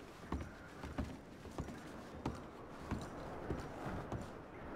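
Horse hooves in Red Dead Redemption 2 clop faintly in an uneven rhythm of soft thuds over a quiet outdoor background.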